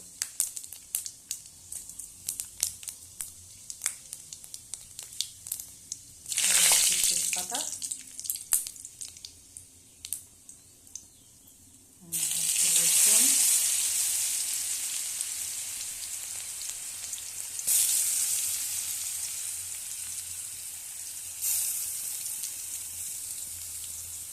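Panch phoron and dried red chillies hit hot oil, bursting into loud sizzles that flare suddenly and ease into a steady hiss, repeated two or three times after quieter scattered crackles.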